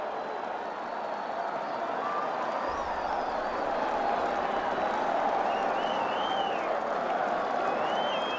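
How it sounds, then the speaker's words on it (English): Crowd at Fenway Park rising in steady, broad applause and cheering for Red Sox pitcher Pedro Martinez during his 1998 home debut against the Mariners, a sustained wash of distant stadium noise with occasional whistles. "The crowd comes up for Martinez"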